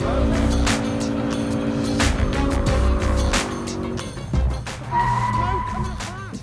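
A car spins through donuts in a parking area, its engine revving while the tires squeal and skid continuously, loud and close throughout.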